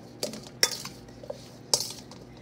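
Potatoes being stirred in a pan as ghee melts, a utensil scraping and clinking against the pan in a few sharp knocks with soft shuffling between, close and fairly quiet.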